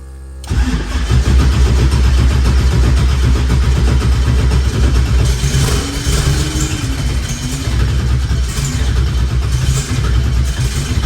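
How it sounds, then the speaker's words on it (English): A car engine in a cold garage at about 42 degrees cranks with a loud, rapid, rhythmic churning of the starter for several seconds, then struggles and catches into a rough running roar, close to the listener. "you shouldn't have to crank that long"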